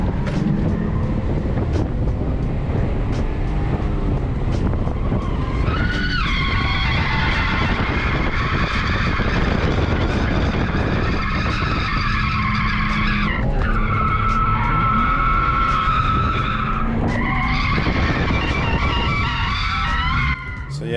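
A drift car sliding hard through a corner on a track, tires squealing loudly in long wavering screeches over a roaring engine, close and continuous with pitch rising and falling as the car spins around.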